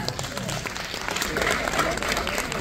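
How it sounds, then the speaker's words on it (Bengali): Audience applause at a stage event for a charity cause, steady dense clapping from a crowd filling the whole stretch with some voices mixed in beneath. "হাততালি হয়ে যাক"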